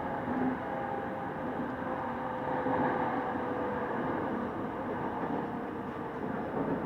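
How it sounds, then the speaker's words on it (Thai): Steady rumbling hum inside a Bangkok Red Line electric commuter train near Bang Bamru station, a constant droning ride noise with no voices. "ผมอยู่บนรถไฟฟ้า สายสีแดง ตอนนี้อยู่ที่สถานี บางบำหลุก"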